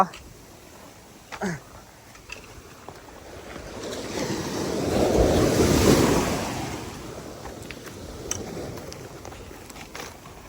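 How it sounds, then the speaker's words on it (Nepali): Sea waves wash onto a beach during a fishing outing, one swell building and surging loudly midway before receding, with wind buffeting the microphone and brief faint voices. "यो माथिसम्म आउँछ हौ छाल"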